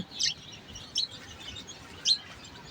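Newly hatched chicks beside their mother hen give three thin, high peeps spaced apart over a quiet background, near and moderately loud, with no talk.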